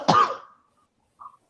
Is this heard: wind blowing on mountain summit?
no